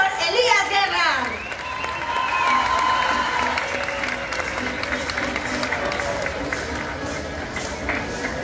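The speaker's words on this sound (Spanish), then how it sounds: "Fuertes los aplausos" Crowd applauding and cheering for a folk ballet troupe at a city anniversary celebration, sustained clapping and voices from a large audience, with an announcer's amplified speech and a sliding tone early on.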